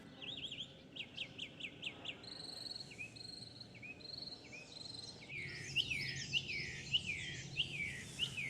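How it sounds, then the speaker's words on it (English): A mockingbird sings in Liberty State Park, repeating short whistled phrases in quick series before switching to new rising and falling figures, fairly close and clear, with faint insect chirring underneath. "the mockingbird."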